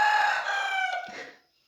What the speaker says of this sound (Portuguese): esse galo é engraçado.